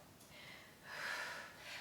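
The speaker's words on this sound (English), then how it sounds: "I'm sure you can hear my breath here." Audible breathing during a ball-based pilates workout: two soft, airy breaths, a shorter one followed by a longer, stronger exhale, quiet and close to the microphone.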